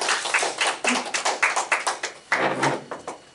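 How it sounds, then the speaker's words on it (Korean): Audience clapping at an award ceremony during a Korean cultural event, a series of sharp, evenly paced claps with a brief pause before a final burst, moderately near and alone. "예, 박수 한번 주세요."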